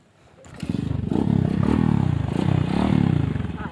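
A motorcycle engine starts up and revs near the listener, rising into a loud, pulsing mid-range roar with rhythmic throttle swells that holds for several seconds.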